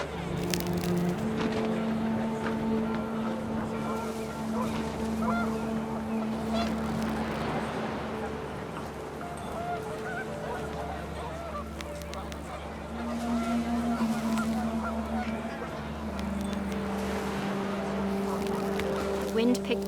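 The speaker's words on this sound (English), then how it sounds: "panicked geese appeared and quickly went" Panicked geese honk in scattered calls over gusting wind and a low rumble in What Remains of Edith Finch, moderately loud, while a voice narrates over them.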